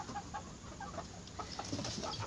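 A hen and her chicks, about three weeks old, cluck and peep steadily and softly at close range, a continuous low flock chatter with no voices.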